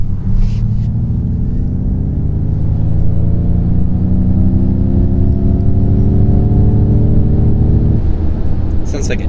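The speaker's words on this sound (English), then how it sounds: "So what that was doing was playing engine sounds, probably a Mustang sound, through the speakers" A loud synthetic engine tone from a 2021 Ford Mustang Mach-E, an artificial engine sound played through the car's speakers, rising steadily in pitch as if accelerating, holding smoothly before dropping off near the end.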